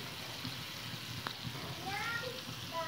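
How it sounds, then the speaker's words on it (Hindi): Mutton pieces for pathar ka gosht fry in a little oil, giving a soft, steady sizzle close by, with faint voices and small background sounds in the room. "इस तरह से फ्राई करने के लिए रख दें"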